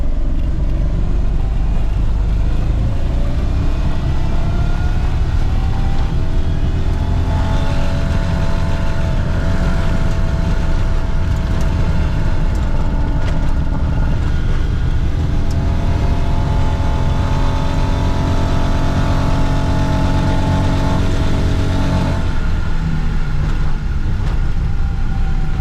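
A Geo Metro with a swapped-in big block engine drives in third gear, its loud, deep exhaust drone holding steady and rising slightly in pitch throughout, heard up close with no talk.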